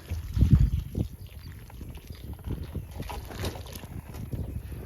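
Water poured into potting soil in a 2-gallon paint bucket with holes drilled in the bottom, a close, low splashing gurgle that surges at the start and then trickles on unevenly.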